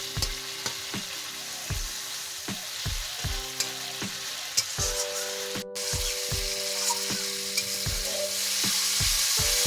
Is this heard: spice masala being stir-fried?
yes